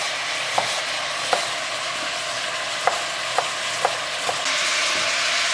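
Chopped shallots sizzle in a hot pan while being stirred, a steady frying hiss broken by several sharp scrapes and taps of the spoon against the pan, close up and with no talking.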